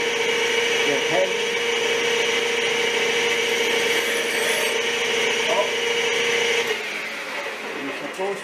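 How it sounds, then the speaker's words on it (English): A 12-inch Nicholson hand file is stroked against metal at a gear-cutting setup. The scraping comes in steady, repeated strokes close by, with a voice talking over part of it. "It's just a little file, it's a 12 inch. It's a Nicholson file, made in Brazil."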